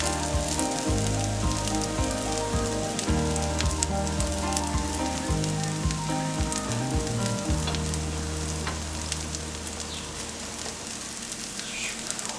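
Soy chunks frying in hot oil give a steady, close, dense sizzle and crackle with occasional stirring clinks, no talking.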